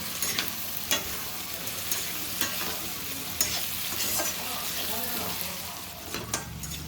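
Potatoes sizzle steadily in a pan of hot oil while a spoon stirs them for butter aloo kurma, sharp scraping clicks punctuating the frying at irregular intervals, close and fairly loud.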